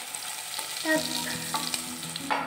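Salted potatoes fry in hot oil with a loud, continuous sizzle and bubbling, with a few stirring scrapes in between; a brief spoken word is heard.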